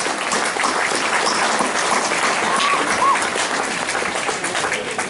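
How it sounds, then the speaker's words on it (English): Crowd at the Coquille Chamber of Commerce Chocolate Fantasy event gives steady, sustained applause for the local Sentinel newspaper, a full, even patter of many hands lasting several seconds with a faint voice briefly audible underneath. "So a round of applause for the Sentinel."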